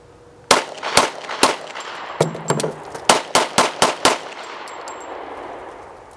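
Series of sharp gunshots from a handgun at about 25 feet, a few rapid shots, a brief pause with faint metallic clicks of a magazine reload, then five more quick shots in steady rhythm, loud and close, with outdoor ambience trailing after.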